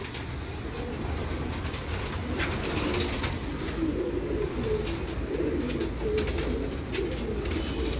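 Caged pigeons coo in a steady low murmur across the whole stretch, a continuous soft warbling bed with faint background noise and no talking.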